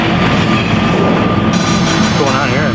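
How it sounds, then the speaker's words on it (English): A 2,100-ton crane's support system failing while hoisting an 18,000 square foot stadium roof section, heard as a loud, continuous grinding roar with metallic creaking and wavering squeals rising near the end, dense and sustained throughout. "That sound is the crane's support system failing."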